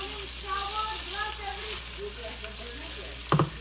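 Cloves and black pepper crackle and sizzle in hot oil, a close, steady frying hiss with a sharp clatter of stirring near the end, and a voice speaking faintly beneath.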